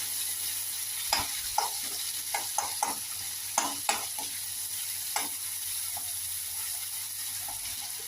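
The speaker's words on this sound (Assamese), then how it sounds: "এয়া এনেকৈ লৰাই দিব অকণমান বিলাহীখন" Tomato with turmeric and coriander powder is stirred in a pan for potato curry, with scattered spatula scrapes and clinks over a steady frying hiss.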